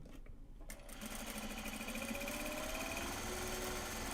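A sewing machine stitches Japanese fabric for a drawstring project bag, starting after a brief pause and then humming in a fast, steady mechanical whir, close and continuous.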